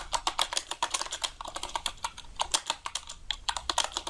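Keys clattering on a computer keyboard while code is written for a Java programming tutorial: quick, irregular close-up keystrokes in bursts with short pauses.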